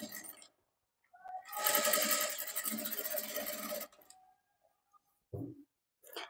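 A sewing machine stitches along the neckline edge of a padded blouse in one steady burst of about two seconds, close and fairly loud, followed by brief handling sounds and short moments of speech.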